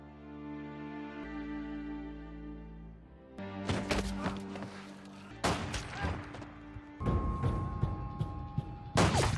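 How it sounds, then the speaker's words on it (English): Sustained music gives way to bursts of gunfire, rapid volleys of sharp shots cracking in clusters, loud and close, with an occasional brief voice. "But gunfire erupts as they descend to the floor below"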